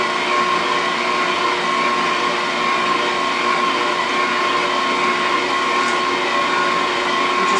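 A mixer or blender whirs steadily at close range for the full stretch, blending lemon curd with salt and lemon juice in a bowl, a continuous even motor drone with no talk over it.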